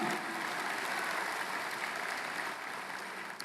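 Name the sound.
congregation applause for the risen Jesus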